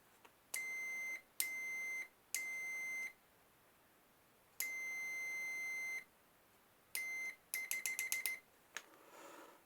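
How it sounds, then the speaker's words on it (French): A Sefram multimeter's continuity buzzer beeps with a piercing electronic tone in bursts of varying length, some long and held, then a rapid stutter of short beeps, loud against near silence. "On va mettre le buzzer."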